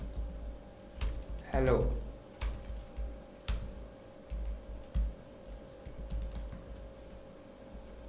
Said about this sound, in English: now we type